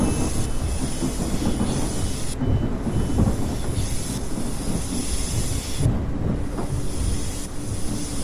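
A Southern Class 377 electric multiple-unit train pulls away from a busy London station, a steady loud rumble of wheels and traction with rolling low-end roar throughout, no talking.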